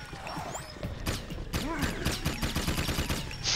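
Jak 3 video game gunfire during a boss fight comes as rapid, dense bursts of repeated shots, loud and continuous over game effects, with a brief vocal sound in the middle.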